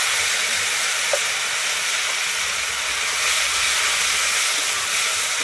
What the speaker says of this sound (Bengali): আমি টমেটোটা কিন্তু ভালোভাবে ভেজে নেব